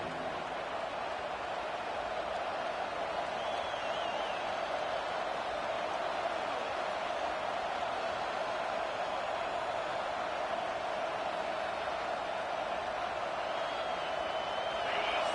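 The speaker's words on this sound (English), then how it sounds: "This crowd bringing the energy and noise early." A large stadium crowd at a Georgia vs LSU football game roars in a steady, continuous wash of noise, heard from a distance without letup.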